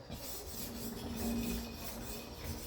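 A honing stone rubs back and forth across the bevel of a large paper machine knife, a soft, steady, gritty scraping close by and fairly quiet, with no talking.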